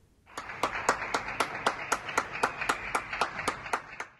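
A crowd in Alanya, Turkey, applauding healthcare workers in the evening, a steady run of rhythmic clapping at a moderate distance, loud and unbroken, with no talking.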